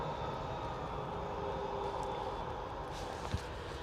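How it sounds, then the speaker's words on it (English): An EasyJet airliner taking off from Manchester Airport, its engines a steady broadband roar heard from a distance, with no one talking. "Now the EasyJet has finally decided to get its skates up."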